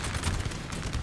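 Cannon and musket fire in a Napoleon Total War recreation of the 1810 Battle of Fuengirola, a rapid jumble of overlapping booms and cracks over a continuous battle din.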